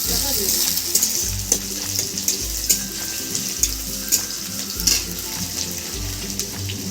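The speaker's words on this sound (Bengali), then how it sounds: "পেঁয়াজটা একটু ভেজে নেব" Onion frying in a pan hisses steadily at moderate level, with occasional stirring clicks and a low rhythmic background hum beneath the continuous sizzle.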